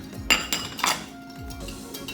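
Spoon clinking against a bowl while puto cheese batter is mixed, a few sharp ringing taps followed by softer scraping, close and clear with no talk.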